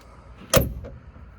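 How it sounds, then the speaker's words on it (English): A Hummer H1 Humvee door shuts once with a single sharp, solid thunk, close and loud, followed by a faint rattle and quiet background. "You can see the superior doors to the Humvee."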